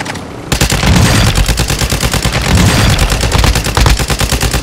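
Sustained rapid gunfire in a video game airstrike match, loud and close, a continuous stream of automatic shots and bursts running through the whole stretch after a brief quiet start.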